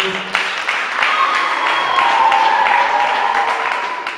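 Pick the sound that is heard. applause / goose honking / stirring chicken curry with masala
applause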